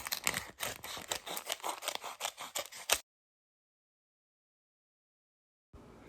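Scissors snip through folded paper for Hershey Kisses candy roses: about three seconds of rapid, crisp close-up cuts, then silence, then a brief resumption at the end.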